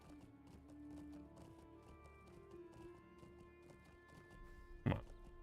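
A war steed's hooves clip-clopping in the online game The Lord of the Rings Online, a soft steady gallop under game music with a sharp thump near the end.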